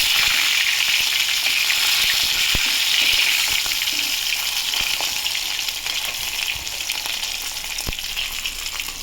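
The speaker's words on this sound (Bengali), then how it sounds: "মাছটা আমার ভাজা হয়ে গেছে" Fish sizzle steadily in hot oil in a pan, a dense continuous hiss close by with occasional sharp pops and crackles, and no talking over it.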